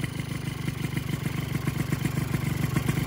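Yamaha F1ZR 125 two-stroke motorcycle engine running on a fresh piston, putting out a loud, close, rapid popping idle with small throttle blips that keep the same choppy rhythm throughout.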